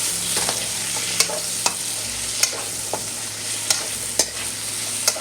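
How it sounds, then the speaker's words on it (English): Chicken wings stir-fried with dark soy sauce in a hot pan: a steady close sizzle runs throughout, broken by sharp scraping clicks of the spatula against the pan roughly every second, alone with no talk. "To fry, stir fry."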